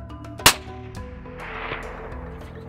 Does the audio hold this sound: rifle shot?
yes